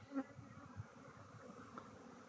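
Honey bees buzz around four beehives, a soft but constant drone with a few louder individual bees passing near amid the swarm.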